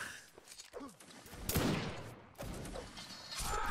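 Musket fire in the online battle game Mount & Blade: Napoleonic Wars, with scattered shots and a louder volley amid battlefield noise, mid-distance and moderately loud.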